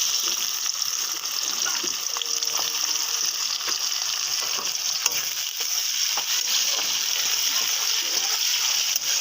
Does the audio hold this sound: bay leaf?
yes